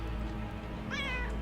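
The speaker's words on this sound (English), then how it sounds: "Oh, there's a cat." A cat meows once, briefly and clearly, over a loud steady background drone in the video game UnderRail.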